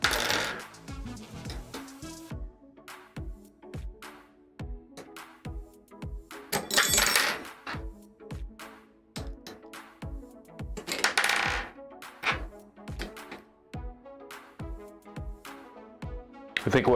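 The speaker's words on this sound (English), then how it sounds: "I'll take all the screws out of that tray and put them in another one" Small metal screws from a Voron 2.4 3D printer teardown clink and rattle as they are sorted and tipped from one tray into another, with dense bursts of jingling separated by scattered single ticks, close and clear.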